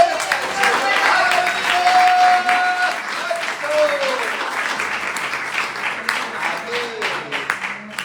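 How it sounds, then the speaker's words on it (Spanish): A church congregation applauds loudly for an engaged couple, dense steady clapping throughout with a tonal whistle or voice rising briefly over it and some talk mixed in. "Dale un aplauso fuerte."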